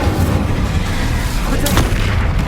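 A roaring, rumbling burst of the Incendio fire spell in Hogwarts Legacy, loud and dense throughout with a brief sharper flare near the end.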